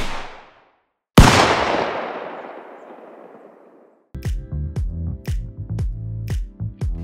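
A designed gunshot sound effect, heavy caliber shots each ringing out into a long, slowly fading layered tail, followed by a rapid series of sharp clicking and metallic mechanical hits.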